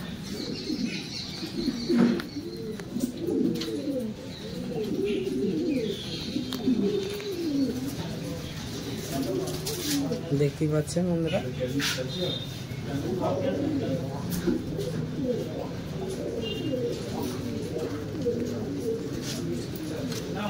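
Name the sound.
pigeons cooing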